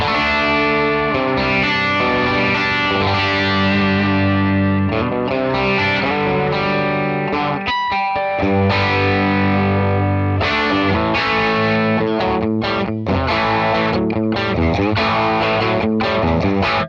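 Electric guitar running through a Fractal FM9 preset on the 121 amp model, sounding loud and distorted as it plays a dense riff with chords and single notes and a few brief pauses, with no talking.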